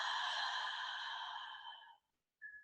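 Long, soft breath let out slowly through the mouth during a breathing exercise, a smooth hissing exhale of about two seconds that fades out, followed by a brief pause and a short faint whistle-like breath.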